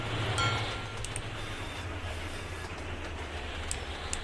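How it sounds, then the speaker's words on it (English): A train passing in the video game Sweet Transit, a continuous rumbling roll with a low drone, louder at the start and then holding steady, with faint clicks on top. "Oh, because there's another bloody train coming."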